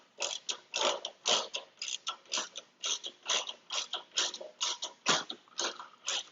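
Ratchet working loose a fender bolt on a Honda CR-V, a steady run of about twenty rhythmic clicking strokes, close and alone.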